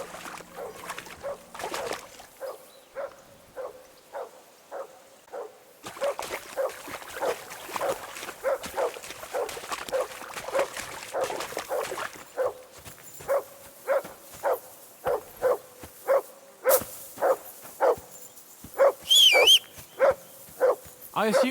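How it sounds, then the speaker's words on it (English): Dog barking in Kingdom Come: Deliverance II, a steady series of sharp, evenly spaced barks at moderate distance that repeat through most of the stretch, with a short gap partway and game ambience underneath. "I assume you can hear that damn dog of yours barking."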